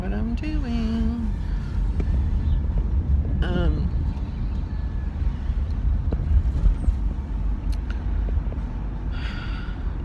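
Car driving around a neighborhood on a spring day, a steady low cabin rumble of engine and tire noise throughout, with a voice speaking over it in places.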